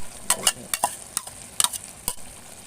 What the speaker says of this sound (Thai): เอามาผัดรอบนึงนะครับ